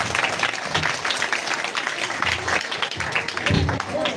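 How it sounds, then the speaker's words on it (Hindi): A crowd claps together in a dense, continuous patter of applause at a coaching centre's Saraswati Puja event, holding steady for several seconds. "उनको आप लोग तालियों से स्वागत कीजिएगा"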